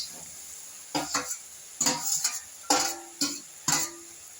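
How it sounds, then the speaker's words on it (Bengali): Small mini fish hit a hot pan, setting off several short bursts of sizzling spaced a second or so apart, fairly close, with quiet pauses in between. "মাছটা দিয়ে দিলাম, এটা মিনি মাছ।"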